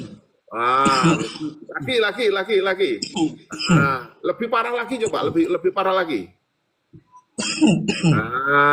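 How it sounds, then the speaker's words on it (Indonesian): Deliberate, forced coughing and throat clearing in short bursts, with a voice speaking close by between the coughs. "Coba sekarang disengaja kamu batuk-batuk dulu coba, pura-puranya batuk."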